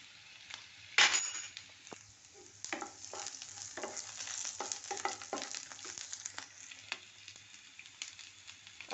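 Garlic and a teaspoon of cumin seeds fry and sizzle in hot oil while a spoon stirs and clinks in the pan, a steady crackle with a sharp burst near the start, for a Pakistani-style vegetable dish of squash peels.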